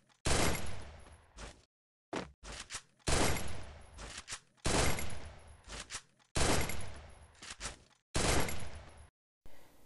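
Gunfire in the Free Fire mobile battle royale game, rendered as repeated bursts of rapid automatic shots, six loud clusters separated by short silent gaps, close and alone without speech.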